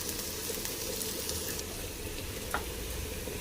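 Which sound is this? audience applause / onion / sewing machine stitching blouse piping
onion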